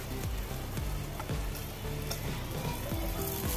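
Fish fries in a small amount of oil in a covered pan, giving a steady close sizzle with faint crackles and pops and no talking.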